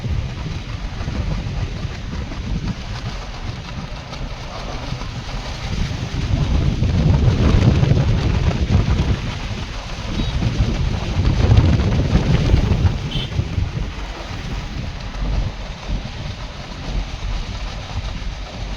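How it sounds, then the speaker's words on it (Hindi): Wind buffets the microphone during a drive with cold air blowing, a steady low rumble that swells and eases over roughly nineteen seconds, with no talking. "ठंडी ठंडी हवा चल रही है।"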